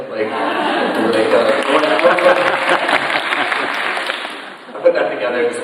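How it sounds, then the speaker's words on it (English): A room of seventh and eighth grade kids breaks into steady applause, a dense patter of many hands with some chuckles and chatter mixed in, fading briefly near the end before a last burst. "the kids always clap after a video"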